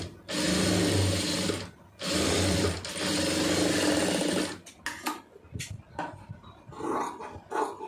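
A sewing machine stitches a fabric neckline for a round-neck garment, running in long continuous loud bursts with brief pauses, then stopping, followed by light handling clicks and rustles of cloth.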